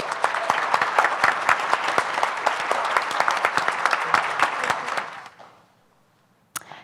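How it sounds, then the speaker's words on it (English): A room full of people at a report launch gives the speakers a round of applause, a dense burst of clapping that fades out after about five seconds, followed by a short thump. "Please join me again with a round of applause for all of our speakers."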